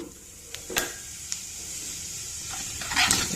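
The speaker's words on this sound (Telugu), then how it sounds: "ఇప్పుడు జీలకర్ర ఆవాలు వేసుకుందాం" Cumin and mustard seeds hit hot oil in a kadai, bursting into a brief close sizzle with crackling pops and a couple of sharp utensil clinks, no talking.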